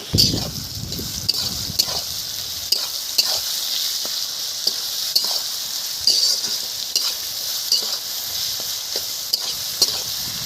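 Whole cardamom, cloves and cinnamon with chopped onion and two bay leaves frying in a pan, a steady hiss broken by sharp scrapes of stirring, with a voice talking over the sizzle.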